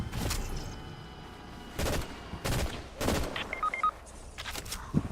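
Bursts of gunfire from the video game Fortnite, several sharp loud shots spaced irregularly over steady game background noise, with a few small high electronic beeps between them.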